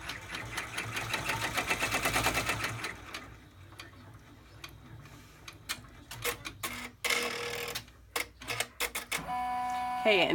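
A sewing machine stitches an embroidered zipper fob pouch with a window, giving a fast, rhythmic mechanical whir in several short bursts separated by pauses and small clicks.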